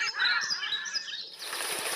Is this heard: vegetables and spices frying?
no